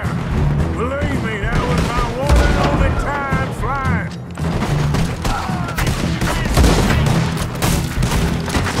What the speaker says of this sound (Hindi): भाई क्या पड़ रही है गोलियां